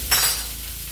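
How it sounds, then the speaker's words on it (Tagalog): Bitter gourd (ampalaya) frying in a pan gives a steady, hissing sizzle for a brief moment, close and fairly loud, with no talk over it. "Luto tayo ng ampalaya."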